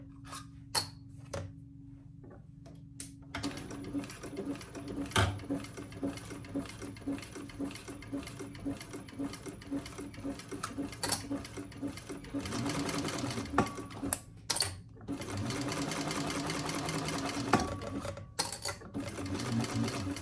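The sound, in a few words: sewing machine back stitching seam on cork tote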